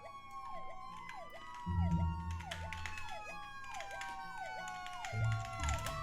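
A fire engine siren in the Roblox game Emergency Response: Liberty County wails in a rapid, rising and falling repeating pattern, fairly faint, with low rumbling bursts underneath.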